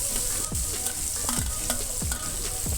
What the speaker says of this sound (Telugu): ఇవి వేగిన తర్వాత మనం తరిగి పెట్టుకున్న ఉల్లిపాయ ముక్కలు, పచ్చిమిరపకాయ ముక్కలు ఇందులో వేసుకొని గోల్డెన్ బ్రౌన్ కలర్ అయ్యే వరకు మనం వేయించుకుందాం.